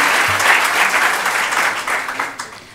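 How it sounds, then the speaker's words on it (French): A crowd at a French-language fundraising seminar applauds steadily, dense clapping filling the room throughout, loud and continuous with a slight swell near the start. "je voudrais qu'on les applaudisse aussi"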